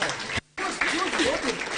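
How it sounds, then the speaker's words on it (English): Audience applause for a law professor at a live-streamed event, a brief burst of clapping with a short dropout, while a voice talks over it. "can we just give him a round of applause?"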